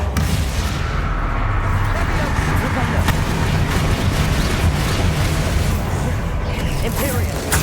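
In the video game Hogwarts Legacy, the Crucio curse is cast amid loud, dense spell effects, a continuous roar of blasts and crackling impacts with a voice speaking over the combat.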